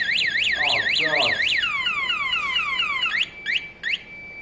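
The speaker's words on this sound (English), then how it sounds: "I'm afraid step one of this bike is going to be lose the alarm." A Kawasaki ZL600 motorcycle alarm blares loudly up close, cycling through a rapid warbling siren, then a sweeping whoop, before cutting into a few short chirps as it stops.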